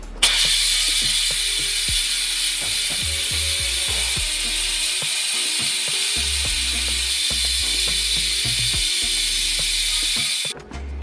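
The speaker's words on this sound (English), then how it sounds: "I'm just going to let the steam out fast" Steam vents fast from a pressure cooker holding Jamaican red peas soup, a continuous loud hiss with occasional clicks and rattles that runs for about ten seconds before cutting off abruptly.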